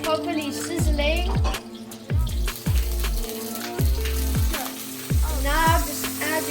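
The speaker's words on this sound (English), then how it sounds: "now it's properly sizzling." Tofu scramble with onions, basil, lemon juice and spinach sizzling in a frying pan, a steady crackling hiss broken by repeated clanks of a utensil against the pan, close and fairly loud.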